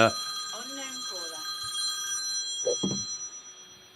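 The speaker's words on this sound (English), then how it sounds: "I should have probably taken that phone call." A telephone rings with a repeated warbling electronic trill, heard fairly close behind a person talking who carries on speaking over it.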